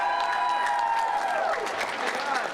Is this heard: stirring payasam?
no